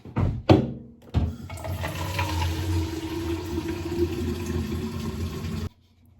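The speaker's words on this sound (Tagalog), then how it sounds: "Lagyan natin ng tubig." Water poured steadily into a colorful aquarium lamp, a continuous splashing fill that starts after a couple of sharp knocks and runs for about five seconds before stopping abruptly.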